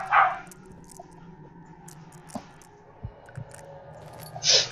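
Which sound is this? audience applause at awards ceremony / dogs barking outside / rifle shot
dogs barking outside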